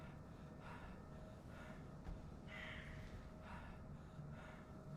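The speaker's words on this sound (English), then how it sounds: "Who's that breathing?" Heavy breathing in the Call of Cthulhu video game, a steady low rasping breath with a few gasping swells, moderately loud and continuous, with no talk.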